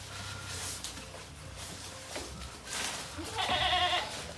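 Goats bleating nearby amid a busy farmyard background, with a louder bleat toward the end; steady rustling suggests animals feeding.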